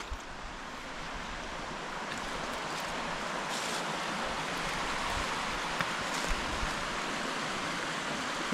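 A river rushing alongside a walking route to Nant Mill near waterfalls, a steady broadband wash of flowing water close by, continuous and unbroken with no voices.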